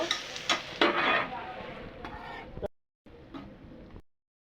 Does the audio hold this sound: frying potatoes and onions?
yes